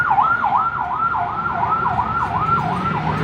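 A Toyota Wigo's worn, thin brake pads squeal in a loud, repeating high wail that rises and falls about three times a second over a low background rumble.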